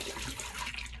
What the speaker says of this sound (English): I'm going to wet the bristles of my ever-ready C40 brush down